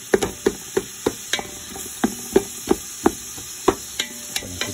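Tomatoes being stirred and sautéed in a pan while biryani is cooked: a spoon scrapes and taps the pan in a steady rhythm, with a soft sizzle underneath.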